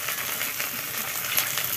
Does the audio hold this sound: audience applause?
no